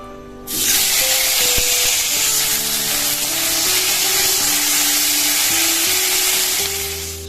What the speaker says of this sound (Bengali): কড়াইয়ে তেল দিয়ে দিয়েছি আর তেলটাও কিন্তু গরম হয়ে গেছে আর প্রথমেই হচ্ছে আমি ভাজা করব ফুলকপিটা